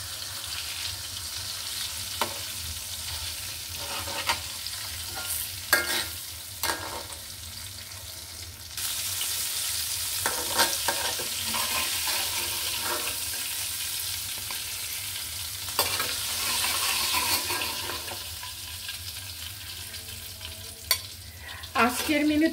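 Koi fish fry in hot oil in a pan with a steady, close sizzle. Occasional clicks and scrapes come from stirring or turning the fish, and the sizzle grows louder partway through.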